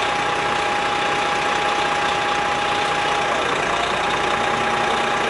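A Toronto Fire aerial ladder truck idles loudly and steadily close by. The engine drones on with no revving throughout.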